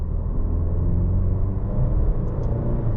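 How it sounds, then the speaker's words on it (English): A Maserati Grecale GT with a twin-charged engine accelerates in sixth gear in comfort mode, heard as a steady, loud low engine rumble and drone from inside the cabin, with no talking. "If I stick it in 6th gear, even though we're in comfort mode, so it gives us instant torque."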